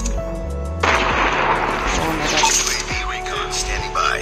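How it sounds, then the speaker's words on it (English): A predator missile strike in Call of Duty Mobile, with a heavy explosive rumble and crackling blasts rolling through a busy battle mix with radio voice callouts over it. "Friendly predator missile"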